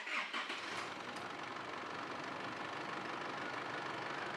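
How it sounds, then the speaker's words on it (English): An Isuzu MU-X or D-MAX engine starts after an oil change and settles into a steady, quiet idle; a brief starting burst opens the sound before an even running hum, with no voices. "So we'll start the car then, allow it to run for about a minute and shut it off,"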